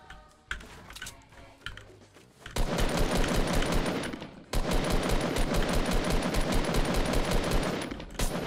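Rapid automatic gunfire from Fortnite: Battle Royale, with a few scattered shots first, then two long, dense, loud bursts of continuous firing.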